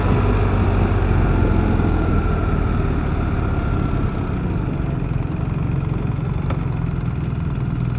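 A BMW R1300GS motorcycle engine idles close by with a loud, steady, even rumble that holds unchanged throughout, with no voices.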